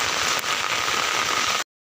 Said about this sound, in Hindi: पूरा बारिश रुका ही नहीं, रुकने का नाम ही नहीं ले रहे थे।